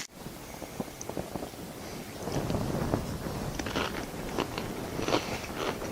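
Close-up crunching and chewing of Texas hash scooped with Doritos, a run of crisp bites and crackly munching over faint background noise.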